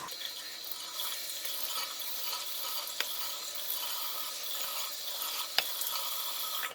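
Water runs and splashes steadily over a bathroom sink as someone rinses off their face, with soft continuous hiss and a couple of small clicks or taps.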